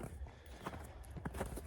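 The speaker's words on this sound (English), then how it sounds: "the cows are out" Cows walk out of a farm barn, their hooves clopping in loose, uneven steps on a hard floor. The steps are faint to moderate and come amid low background noise.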